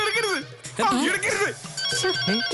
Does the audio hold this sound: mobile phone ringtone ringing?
yes